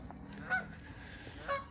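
Greylag geese honk faintly at a lake, two short distant calls separated by a pause over quiet outdoor ambience.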